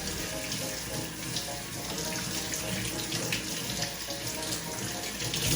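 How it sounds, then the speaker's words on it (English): Tap water runs steadily into a sink during a handwashing rinse, a continuous close hiss and splash with no talking. "rinse your hands"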